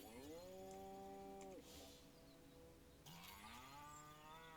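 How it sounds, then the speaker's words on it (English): Cows in the video game Destroy All Humans give two long, drawn-out moos with a short pause between them, clear and alone at low volume. "they are all just saying moo"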